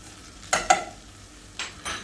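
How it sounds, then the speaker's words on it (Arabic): Rice dropped into a pot of fried vermicelli, onion and cinnamon, with two sharp metallic clinks early on followed by a couple of softer stirring scrapes over a faint sizzle. "نسقط بقى الرز"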